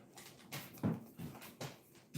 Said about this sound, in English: Yep, dog.